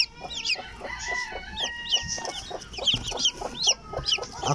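A US Silkie hen with her three chicks in a backyard: steady high peeping from the chicks over soft, low clucking, close and continuous.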